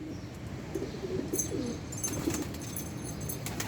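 Pigeons, a pair kept by a sky-pigeon fancier, coo softly in a few low, wavering phrases over a steady background hum, with faint higher chirps later on.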